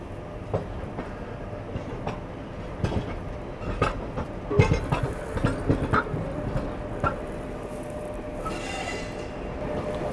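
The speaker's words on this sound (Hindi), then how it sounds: "चलिए यहाँ पर निकल चुकी है अपनी ट्रेन" The Mussoorie Express rolls past on Indian rails, wheels clattering in rhythmic clickety-clack bursts over joints, with metallic clanks and a brief high squeal near the end, loud and close throughout.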